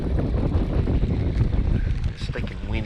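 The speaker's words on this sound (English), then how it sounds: "It's stinking windy." Strong wind roars steadily across the microphone on a fishing boat out bass fishing, with water slapping and rumbling low underneath and faint voices near the end.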